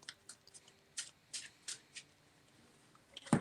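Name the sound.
shuffling a deck of cards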